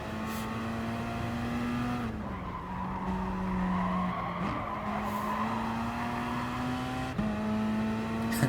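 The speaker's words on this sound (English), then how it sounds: "Already a big crash." Race cars in a video game at Monza, with the Turn 1 chicane skipped, skid and crash in a pack: loud tyre squeal over high, shifting engine whines that stay steady for several seconds with no talking.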